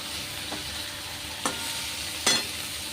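Taro stolons (kochur loti) fry in a pan with a continuous steady sizzle, broken by a few scraping stirs of a spatula.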